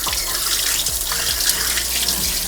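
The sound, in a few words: water running while washing raw pork in sink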